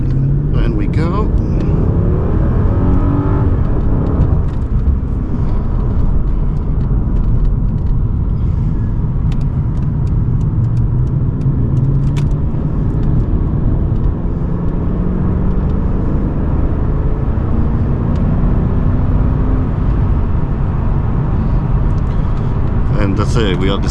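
A Mercedes-Benz CL500 W215 with a 5.0 V8 pulls away from a traffic light, its engine droning loud and close as the deep rumble climbs steadily in pitch under the acceleration.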